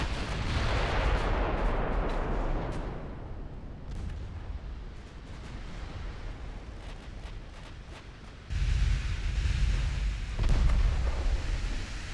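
Warship guns firing in the naval battle game Ultimate Admiral: Dreadnoughts, deep booming salvos with rumbling tails, one heavy blast at the start and more loud rumbles later, separated by quieter background.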